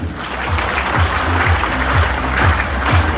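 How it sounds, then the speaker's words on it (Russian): Dense applause from a concert audience at a Christmas show fills the hall, a continuous wash of many hands clapping with a faint rhythmic pulse, loud and steady. "Аплодируем."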